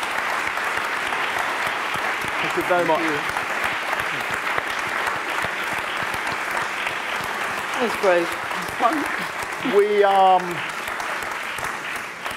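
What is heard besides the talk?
audience applause for award laureates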